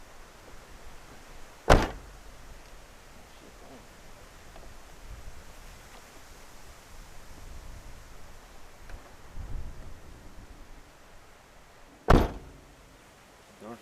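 A 2013 Subaru Outback front door is fitted and shut, with two sharp, loud slams several seconds apart over quiet background shuffling and faint handling noises.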